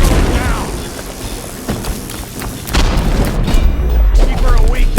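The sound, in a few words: explosion in a video game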